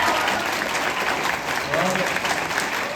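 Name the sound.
audience applause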